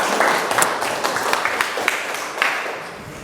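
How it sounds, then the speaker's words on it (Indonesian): Classroom applause during a group presentation, a moderate round of clapping from a room of students with scattered sharper claps, steady then tapering slightly. "Ya, tepuk tangan dulu."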